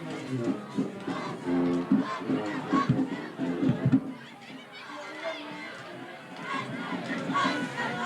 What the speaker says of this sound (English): I think that's what the crowd is really cheering for